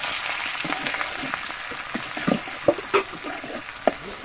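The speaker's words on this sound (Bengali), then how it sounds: "আমি তেল দিয়ে দিছি, এখন আমি পিঁয়াজ করছি, মরিচ কুচি দিয়ে দেবো" Onions and chopped chili frying in oil for a chickpea fry give a steady, close sizzle with a few stirring scrapes and small pops, and no voice.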